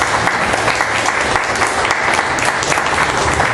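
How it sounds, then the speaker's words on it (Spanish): A church congregation claps a loud, dense round of welcome applause, steady and close for the whole stretch with no talk over it. "Démosle ese fuerte aplauso de bienvenida."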